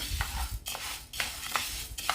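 Horse gram is dry-roasted in a pan and stirred, giving soft close scraping sweeps and light rattling of the grains at an irregular rhythm, fairly quiet.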